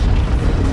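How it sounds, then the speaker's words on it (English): A cannon in the World War I shooter Battlefield 1 erupts in a loud, deep explosive boom, a short, heavy blast that swamps everything for under a second. "First, the firestorm from the cannon."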